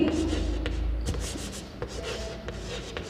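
Chalk or marker scratching and rubbing across a classroom board, a few short strokes and taps over low room hum, with faint background noise.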